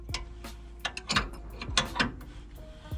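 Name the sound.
mechanism being screwed down until tight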